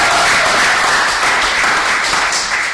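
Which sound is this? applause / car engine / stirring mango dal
applause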